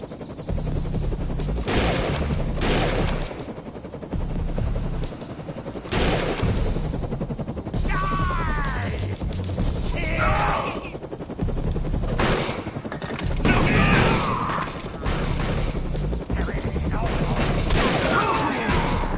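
Gunfire in the video game Defiance 2050: continuous loud automatic fire and repeated shots, with bursts and booms layered over a steady background and voices talking over the shooting in places.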